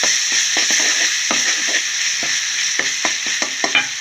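Garlic paste sizzles steadily in a hot pan for chicken curry, a dense bright hiss with a run of soft scraping stirs and light utensil taps near the end.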